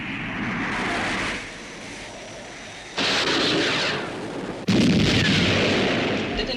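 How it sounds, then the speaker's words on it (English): Missile launch effect from the TV series UFO: a loud roaring blast of rushing noise that cuts in abruptly, drops back, then surges again in two sharp stepped bursts, with no talk. "Commencing missile sequence. Firing"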